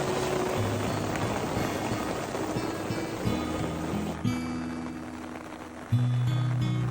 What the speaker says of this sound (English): my tarp modification definitely has flaws when it comes to rain